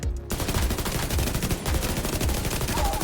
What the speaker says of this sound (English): Basically, we're shooting blank bullets